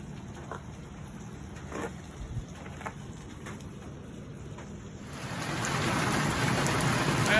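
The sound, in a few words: steady rain falling while camping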